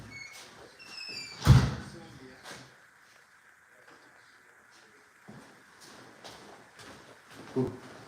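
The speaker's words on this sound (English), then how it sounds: "I'm just gonna shut the door." A door is shut with a single loud thunk indoors, followed by quieter knocks and rustling, with a person talking softly around it.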